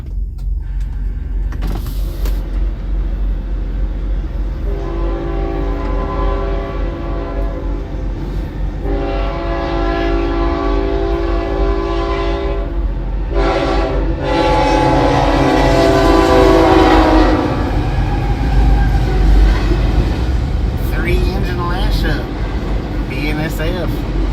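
A BNSF train passing at speed near Friona, Texas, its horn blaring in long, loud blasts over the rolling rumble of the cars, with voices talking under the noise.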